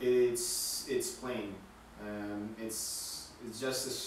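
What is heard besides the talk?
No everyday noises stand out.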